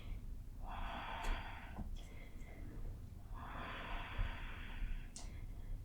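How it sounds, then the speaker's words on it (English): Slow, audible breathing during a yoga crescent lunge in a power yoga class, two long airy breaths, close and soft, with a brief sniff between them. "Keep breathing here."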